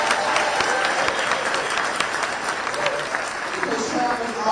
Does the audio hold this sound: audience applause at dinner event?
yes